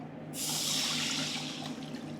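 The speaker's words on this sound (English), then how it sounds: "in the same pan, we're just going to add some water" Water poured into a cooking pan after the chicken is removed, a broad steady splashing rush that starts abruptly and continues close by without talk.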